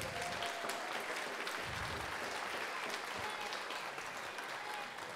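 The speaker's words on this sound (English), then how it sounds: "Can we have another round of applause for our piano player, Mr. Casey Hess?" An audience at a high school spring band concert applauds, a dense, steady wash of clapping that holds evenly throughout and eases slightly at the end.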